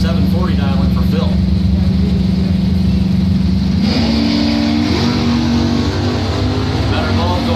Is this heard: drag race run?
yes